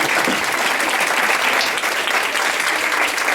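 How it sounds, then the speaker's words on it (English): Loud, dense audience applause at a nurse of the year event, close and continuous clapping throughout with no break. "But let's give Bob a round of applause"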